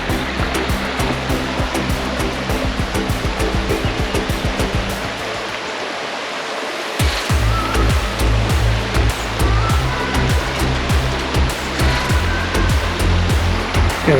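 A creek beside the Hamma Hamma River flows in a steady, loud rushing wash, nearby and continuous, with rhythmic clicking and knocking over the water and no talking.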